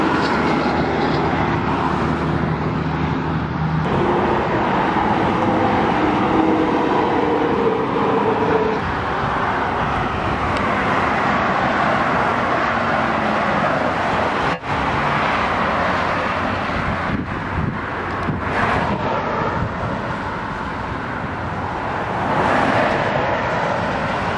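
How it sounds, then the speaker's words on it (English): A red 2018 Chevrolet Traverse Premier Redline SUV with a 3.6-liter engine pulls out of a parking lot and drives down the road, a steady broadband road and engine rush that stays loud throughout with no talking. "get a nice shot of this beautiful SUV coming down the road"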